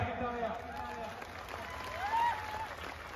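An audience at a wrestling bout claps in a steady, dense wash of applause, fairly distant and even, with a raised voice or whistle cutting through briefly near the end.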